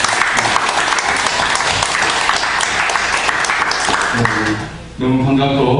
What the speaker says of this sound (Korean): 큰 박수로 보내겠습니다